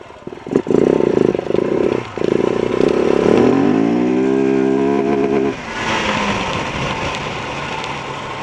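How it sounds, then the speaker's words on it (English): A KTM 690 single-cylinder motorcycle engine revs hard and bangs against the rev limiter, a loud stuttering buzz that rises and falls, with a faint whistle-like tone and steady road noise throughout. "So that's what the 690's rev limiter sounds like"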